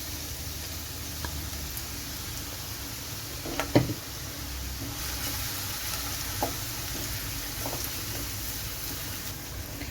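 Chopped garlic and ginger fry in hot oil with a soft, steady sizzle, faint and even throughout, broken by a brief stirring clatter near the middle.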